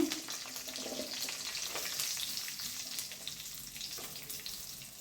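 Dried Byadgi and Guntur red chillies, onion, ginger and garlic frying in oil in a clay pot for chicken biryani, a close, steady sizzle and crackle with light stirring and no talking.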